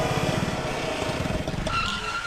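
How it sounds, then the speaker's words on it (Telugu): Jammed road traffic with cars, autos and motorbikes in a Telugu movie scene, a continuous dense rumble of idling and revving engines close by. "ఇంత ట్రాఫిక్ జామ్ అయింది?"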